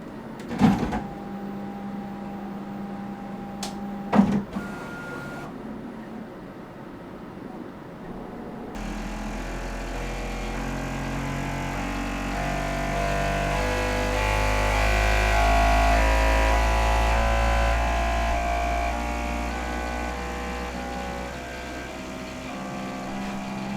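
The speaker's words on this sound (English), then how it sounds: "Printer needs to calibrate to the current environment." A Bambu Lab X1 Carbon 3D printer runs its calibration routine: a few sharp knocks and short tones at first, then a loud, steady motor drone with shifting whirring pitches that swells and holds.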